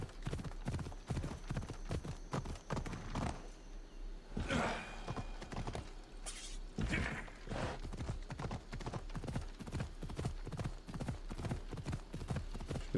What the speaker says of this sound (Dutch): Ja, gelukkig loopt het paard hard genoeg.